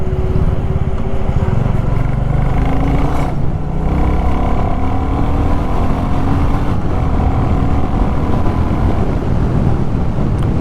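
A 2024 Royal Enfield Classic 350 motorcycle engine runs steadily while the rider shifts through the gears, with a continuous loud low rumble, shifting tones as revs change, and heavy wind noise throughout.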